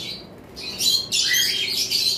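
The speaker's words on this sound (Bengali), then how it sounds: "প্রথমেই আমরা শুরু করব এখানে যে কোকাটেল পাখির পেয়ারটা রয়েছে এটা দিয়ে" A pair of cockatiels kept as a breeding pair call out in shrill, close chirps and squawks, rising into louder overlapping bursts after a quieter start.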